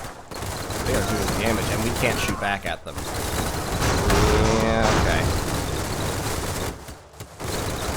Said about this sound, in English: those are Gatling cannons